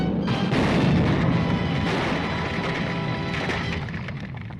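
Explosion sound effect from a 1939 Dick Tracy film serial: a loud booming blast with a splintering, crashing rush that slowly decays over several seconds, with no voices.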